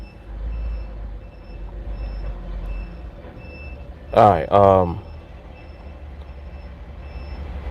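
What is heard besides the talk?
large truck reversing with backup beeps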